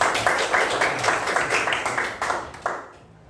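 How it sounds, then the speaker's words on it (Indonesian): Schoolchildren in a classroom clapping their hands, a quick, uneven patter of many small claps that fades away after a few seconds. "Tepuk tangan buat kita semua."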